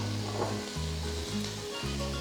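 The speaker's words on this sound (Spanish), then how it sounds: "vamos a darle una pasadita a una buena cantidad de tocino" Bacon sizzling in a preheated skillet for carne en su jugo, a steady close crackle with low stirring thumps and no voices.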